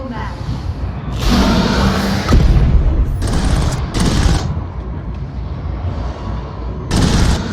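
Suppressing gunfire in a VR video game: several loud, close bursts of rapid automatic fire arrive in separate volleys over a steady rumbling battle din, with heavy booming impacts in between.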